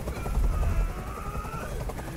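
A helicopter in the video game Detroit: Become Human gives off a steady, rumbling low drone with a rhythmic rotor chop, moderately close and continuous, and a faint whining tone runs above it.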